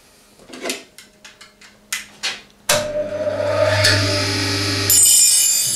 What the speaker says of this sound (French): je vais d'abord utiliser le touret à meuler